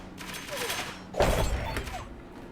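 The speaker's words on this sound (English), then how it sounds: "it shoots extra projectiles for each construction" Ballistae in the video game 9 Kings loose a volley of many projectiles, heard as a rapid cluster of thuds and whooshes that swells into a denser burst midway, moderately loud over a soft game background.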